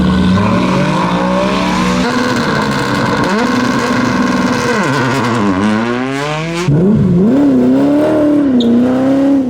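Race cars launch from the start line of the Steeleford hill climb, engines roaring loud and near with rising revs, gear changes and a fresh car pulling away with a climbing howl near the end.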